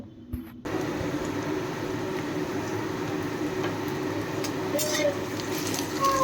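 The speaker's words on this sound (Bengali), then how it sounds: "পেঁয়াজ ভাজার সময়ই আমি একটুখানি চিনি অ্যাড করে আবার পেঁয়াজটা ভালো করে ভেজে নেব।" Onions frying in a pan with a little sugar added, a steady, even sizzle that holds for several seconds after a short quiet start.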